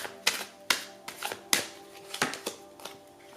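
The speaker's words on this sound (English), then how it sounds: "look at me at my terrible shuffling" Tarot cards shuffled by hand in a loose, clumsy rhythm, a run of crisp riffling slaps and flicks at varying spacing, close and fairly quiet.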